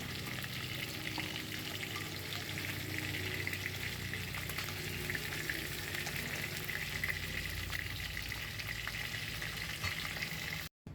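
Fish frying in hot oil for a light Bengali hilsa curry, a steady dense sizzle and crackle running loud and continuous at close range, with no talk over it, before cutting off abruptly near the end.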